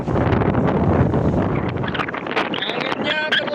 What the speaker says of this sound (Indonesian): Anginnya terlalu kencang. Kita sekedar jalan di dermaga